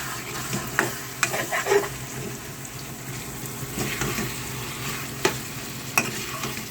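Minced meat keema frying with coriander powder, Kashmiri red chilli, black pepper and cumin, giving a soft steady sizzle with intermittent scraping stirs and a few sharp clinks of a utensil against the pan, close and without talk.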